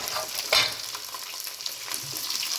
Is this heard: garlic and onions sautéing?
yes